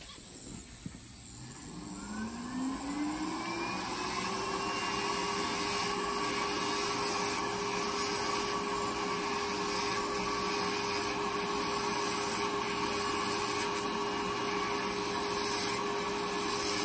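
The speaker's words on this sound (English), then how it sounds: "We're just gonna grind it down." An electric nail grinder grinding down a very thick, layered toenail whirs up to speed in the first seconds, then holds a steady, loud, high whine with faint scraping throughout.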